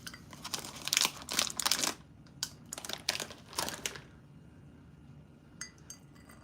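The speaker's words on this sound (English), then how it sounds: "You keep stirring until you don't hear any more of the grinding of the sugar in the water" Spoon stirring sugar lumps into coffee, bursts of close gritty clinking and grinding against the cup that fade to quiet, with a few faint clinks at the end.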